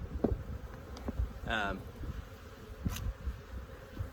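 Honeybee hives stirred up and buzzing as a cover comes off, a faint insect drone in the background with scattered knocks and someone talking over it.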